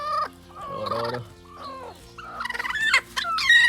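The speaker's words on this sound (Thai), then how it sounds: "ไก่งวงนะครับ" A farm turkey gobbles close by in several rapid, rattling bursts, with shorter calls between the louder outbursts.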